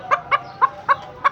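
Silkie chickens clucking in a steady rhythm, five short, close, clear clucks spaced evenly apart, with no voices.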